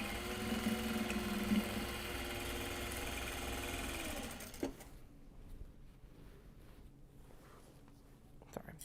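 A sewing machine stitches Japanese fabric for a large box bag, a steady close whirring hum for several seconds that stops abruptly, leaving a quiet room with faint handling noises.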